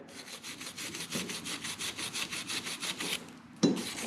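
A small brush scrubs inside a brake caliper of a Can-Am Spyder, where the EBC pads ride. Quick, steady back-and-forth strokes repeat close up for several seconds, then a brief pause and a sharper scrape.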